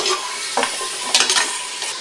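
A meat mixture seasoned with garlic is stirred in a hot pan, a steady close sizzle of frying broken by a few brief scraping stirs, with no talking.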